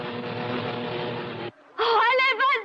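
Racing cars on a race track roar past in a steady, loud engine drone, then cut out abruptly before a second high, wavering engine whine surges back in close by.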